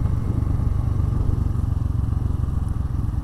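An old motorcycle, a father's bike, ridden along rural roads in Nepal, a loud continuous low engine drone with steady rumbling throughout, no talk.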